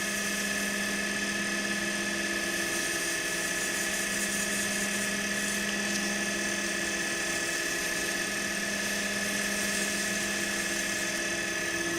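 Sandpaper is held against a spinning diamond-painting pen blank on a lathe, giving a steady, continuous high whine and hum from the motor throughout, close and unbroken.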